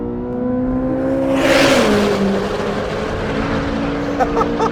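A 2025 Chevrolet Corvette on a race track downshifts to second gear for a chicane, engine note dropping then climbing in pitch through a loud, close, sustained roar with a burst of wind and exhaust noise.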